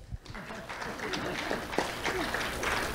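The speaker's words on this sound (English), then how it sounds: "Let's have a round of applause for Nikos Ware" Crowd applause for a second-grade student receiving a sheriff's office Do The Right Thing award, a steady dense wash of clapping at moderate loudness across the whole moment, with a few voices mixed in.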